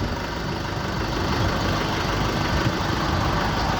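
A Lovol 454 tractor's diesel engine with a loader idles loudly and steadily close by, a constant low rumble with a faint knocking texture and no talk.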